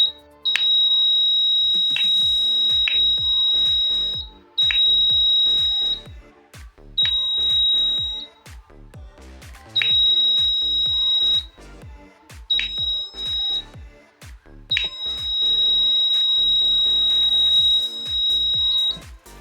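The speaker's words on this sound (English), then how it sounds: "So you can see the alert, the buzzer and the LED are blinking." Alert buzzer on an AI and IoT elephant movement detection device sounds a sharp, high-pitched electronic tone in repeated bursts of varying length, separated by short gaps, loud and close.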